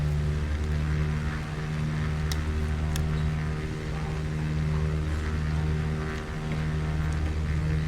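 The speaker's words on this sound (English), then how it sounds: "We're gonna give it full throttle." A motorboat engine runs at full throttle off the Lancashire coast, a loud, steady droning roar with strong low harmonics that holds continuously, with faint splashes and knocks on top and no talking.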